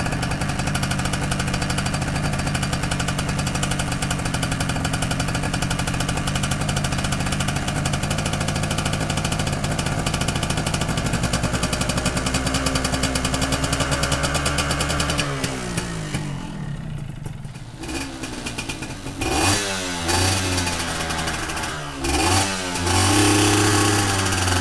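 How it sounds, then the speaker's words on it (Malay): Standard-exhaust Yamaha 125Z two-stroke motorcycle engine running steadily and loud, a buzzy idle that shifts pitch partway through, then a few short throttle blips near the end. "Bunyi motor standard ni kita boleh agak kan."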